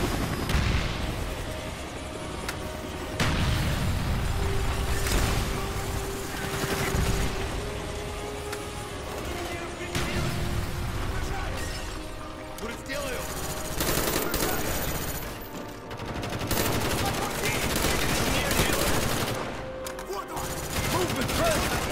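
Dense Call of Duty Black Ops combat: continuous rapid machine-gun fire and gunshot bursts with booming blasts including a grenade explosion, loud and sustained, with shouted voices mixed in.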